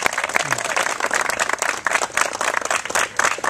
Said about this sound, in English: Round of applause for Miss Hoggard